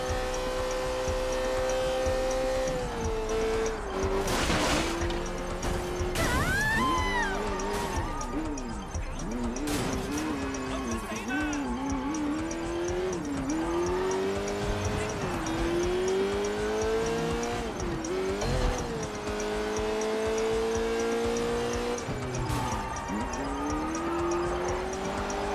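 Fast sports car racing in the video game Sleeping Dogs, a continuous high engine whine climbing and dropping through gear changes, with tire squeals and occasional bumps, loud and sustained.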